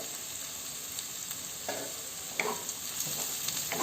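Onions fry in a pan over medium-low heat with a constant close sizzle, while a couple of brief stirring scrapes rise above it; nobody speaks.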